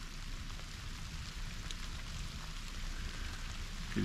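Steady rain patters through the woods of Pennsylvania during rifle season, a soft, even hiss of drops on leaves and ground with no voices, heard close and continuous throughout.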